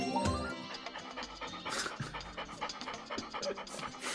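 A dog pants in the video game Paradigm, quick rhythmic breaths repeating close up over a busy mix of game music and effects.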